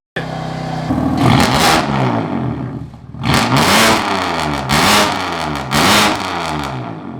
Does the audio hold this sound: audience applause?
no